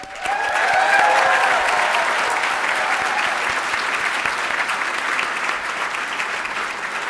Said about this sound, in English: Can we just start off by getting a round of applause for all the new and returning scholars?